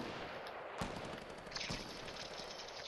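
Gunfire in the Fortnite video game, two sharp shots cracking out about a second apart against a quiet, faint background, with no talking.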